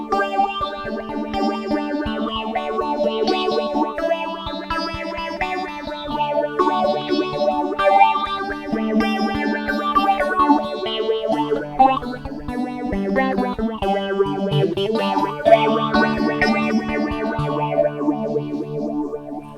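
A 12-string guitar strums chords through a duo phase effect that makes the tone sweep and swirl in slow waves, played alone and steadily for the whole stretch.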